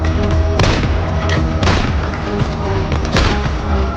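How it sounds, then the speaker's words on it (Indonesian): Gunfire and bullet impacts fill a film action scene: loud, dense bursts of booming shots and thuds pile up over a busy background, with several sharp cracks standing out across four seconds. "Tapi, setelah dibombardir peluru, Mary sama sekali tak terluka."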